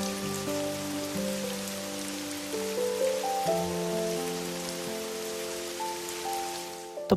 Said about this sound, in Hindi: हमारा स्वागत किया बारिश ने।